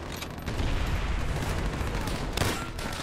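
Dense, continuous gunfire and battle noise from Call of Duty: World at War, loud and sustained with a heavier burst near the end and no talk over it.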